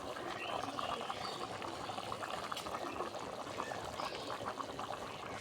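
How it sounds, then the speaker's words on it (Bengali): Curry broth of pangas fish and mixed vegetables bubbling at a steady boil in a pot, a soft continuous simmering hiss with faint bubbling, fairly quiet and unbroken. "দেখুন কত সুন্দর বলক উঠতেছে।"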